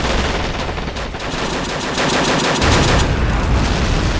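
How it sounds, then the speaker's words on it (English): .50 cal machine guns firing in the war strategy game Men of War: Assault Squad 2, sustained rapid automatic bursts overlapping into a dense, continuous clatter with no pauses. "Use those 50 cals to pin down the Japanese and assist our force on the flank."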